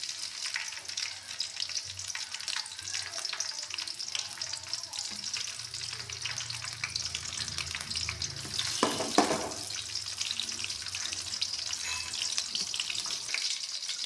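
Green chillies fry in hot oil in a pan for egg fried rice, giving a soft continuous sizzle with a brief stirring scrape near the middle, fairly quiet and with no voices.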